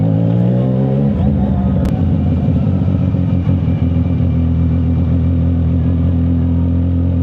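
Kawasaki-style 675 NK motorcycle engine idling and running at low RPM on a speedway, a loud, steady close-up drone with harmonic throb and slight pitch shift early on, continuous throughout.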